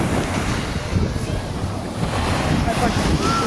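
Sea waves wash steadily onto an Aegean beach in Greece, a continuous close surf roar with wind buffeting the microphone throughout.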